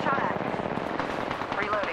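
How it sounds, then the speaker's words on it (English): Rapid gunfire in Apex Legends on PS4 Pro, dense bursts of automatic shots rattling continuously at close range, with a voice talking over it. "Getting shot at."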